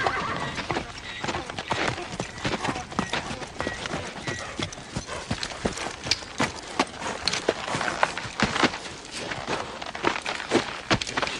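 Horses of the Old West whinny and neigh while hooves clip-clop steadily on hard ground, a busy, close, continuous mix with no talk.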